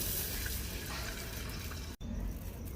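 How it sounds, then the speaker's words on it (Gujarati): Steady splashing rush of water poured into a cooking pot of moong dal khichdi with cumin and yogurt, on a traditional stove, continuous and fairly close, with a brief sharp break partway through. "પાણી નાખી દઈશું."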